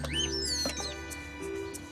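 A cartoon baby bird chirps in quick, bright sliding tweets, several squeaky calls in close succession near the start, then a few shorter peeps, set against light background music.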